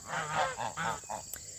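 Geese honking outdoors in a mid-August vegetable garden, several rough nasal calls in a quick irregular series, moderately close, fading into quieter background with a faint steady hum.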